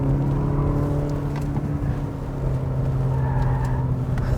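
A 2020 Cadillac CT4, a rear-drive sports sedan with magnetic ride control, cornering on a road, heard from inside as a steady engine drone and road roar with a gentle dip and rise.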